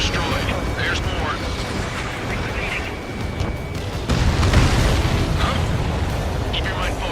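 An enemy transport aircraft explodes in the Ace Combat 7 flight combat game, a heavy booming burst rising midway over constant jet roar, with radio voices talking over it.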